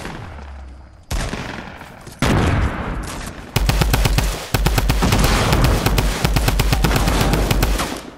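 Rapid gunfire in a Fortnite battle, with loud automatic bursts and single shots that continue without a break, with no talk over them.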